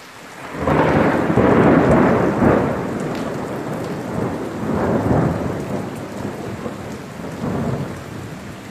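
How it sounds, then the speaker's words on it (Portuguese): A night thunderstorm over Nova Friburgo with heavy rain: deep rolling thunder swells loudly twice over a constant roar of downpour, with no voices. "O Natal terminou com o susto e a preocupação dos friburguenses com os relâmpagos, chuvas e trovoadas."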